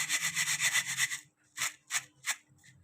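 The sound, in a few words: crispy fried onions rustling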